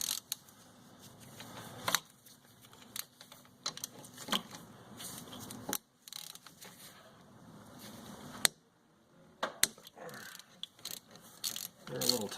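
A hand ratchet clicks in short bursts while loosening tight 12 mm brake caliper bolts, the sharp clicks separated by pauses and clanks of tools; a voice talks in between.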